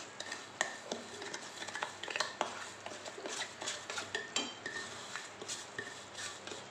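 Roasted semolina goes into a pan with sugar syrup for rava laddu while a spoon scrapes and taps steadily against the metal pan in a busy run of clinks and stirs.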